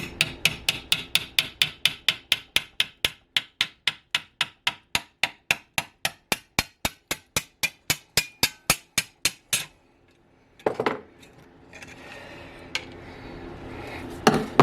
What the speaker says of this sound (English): get one of my very thin fish chisels